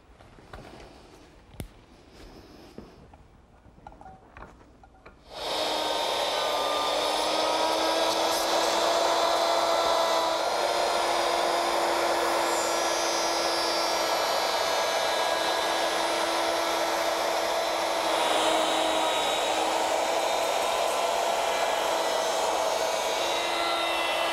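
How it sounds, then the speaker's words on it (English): An electric router cuts a quarter-inch pass in wood for an outdoor garden table; after a few seconds of faint clatter the motor kicks on with a steady, loud whining roar that holds to the end. "plug the router in, and it'll take a few passes because I want to take about 1/4 inch each time"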